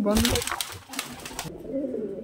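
Kaldom pigeons coo in low, throaty bursts close by, mixed with people talking over them.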